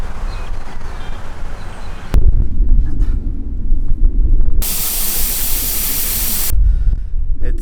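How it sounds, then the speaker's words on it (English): Wind gusting across a wet, wild border track near Bordertown, loud broadband rushing that shifts abruptly in strength, with a harsh hissing burst midway and no speech. "It's still wet, wild, windy out here."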